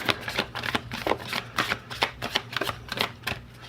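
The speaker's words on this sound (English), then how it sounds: "Again, I will shuffle overhand 3 times." Oracle card deck shuffled overhand by hand, a rapid series of crisp papery riffs and slaps in quick bursts, close and fairly quiet with no talking.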